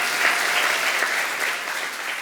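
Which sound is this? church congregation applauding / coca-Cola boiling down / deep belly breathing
church congregation applauding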